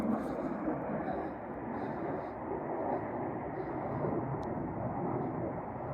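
Jet aircraft roaring overhead outdoors as a steady, broad rushing drone that holds loud throughout, with faint talk in the background.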